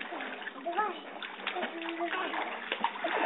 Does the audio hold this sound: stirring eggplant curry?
no